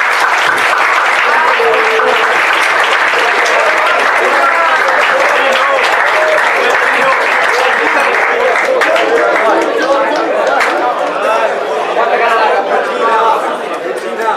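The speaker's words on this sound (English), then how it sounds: "I would like everybody else to give the seniors a good round of applause." Sustained applause from a sizable crowd at a boys' soccer program banquet, steady and loud throughout, with scattered chatter and cheering mixed in.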